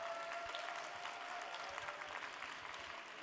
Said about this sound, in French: je pense qu'on peut les applaudir toutes encore une fois.